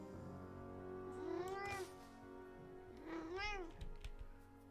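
A pet cat gives two clear, drawn-out meows, close by, separated by a short pause, with a low steady hum in the background.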